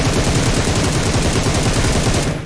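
Rapid automatic gunfire from PUBG Mobile rattles in a loud, continuous burst of closely spaced shots for over two seconds before cutting off abruptly.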